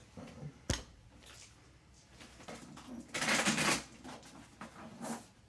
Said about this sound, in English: so it's kind of hard to shuffle them